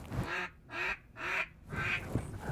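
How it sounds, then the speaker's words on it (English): A real duck at Horicon Marsh, Wisconsin, gives three loud, raspy quacks in an even rhythm, close and clear, followed by fainter calling. "So you hear that? That's a real duck."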